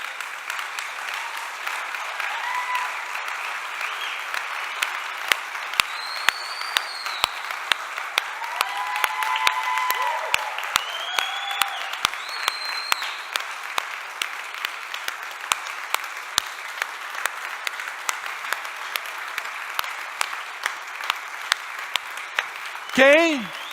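A church congregation at a Sunday service applauds at length, a continuous bed of clapping with sharper individual claps poking through, while voices cry out and cheer over it and a loud shout rises at the end.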